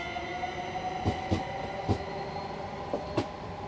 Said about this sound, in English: There's our train on its route.